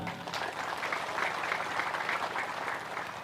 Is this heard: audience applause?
yes